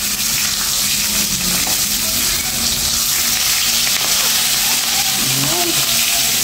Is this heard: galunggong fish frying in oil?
yes